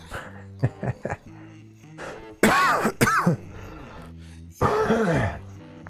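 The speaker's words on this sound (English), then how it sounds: "So I looked to the left to cough and coughed right in your ear." Two or three loud, harsh coughs close to the microphone, spaced a few seconds apart, over a soft sustained tonal background.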